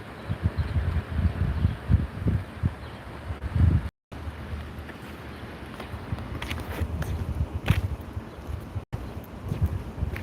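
Outdoor wind buffets the microphone outside a state hospital in Boston, a steady low rumble with rising gusts and rustling that runs unbroken for the whole stretch, with no voices.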